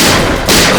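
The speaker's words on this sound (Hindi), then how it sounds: "गोली!" A gunshot rings out indoors in a dramatic crime-drama scene, a single loud, dense blast that fills the short moment with no voices.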